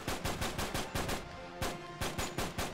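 Rapid bursts of automatic gunfire from the Uncharted 3 video game, close and loud, firing in short rhythmic volleys with brief gaps between them.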